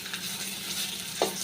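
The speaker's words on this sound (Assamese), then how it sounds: "এনেকৈ ভাজিবচোন আপোনালোকে" Eggs with a little turmeric frying in a pan on lowered heat, giving a steady soft sizzle and crackle throughout, with one brief scrape of stirring near the end and no talking.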